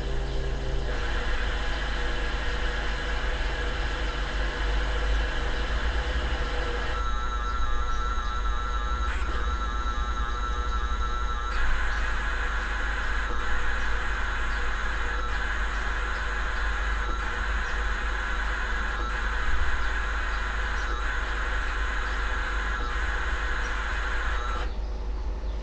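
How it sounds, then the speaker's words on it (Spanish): Fujitsu FM7 cassette data loading through the MESS emulator: a continuous, loud, steady stream of buzzing, warbling data tones with abrupt shifts in pitch partway through, running alone without any talk. "vamos a darle play al dispositivo. Esta cinta son 3 minutos 28. No va a cargar toda, pero escuchad."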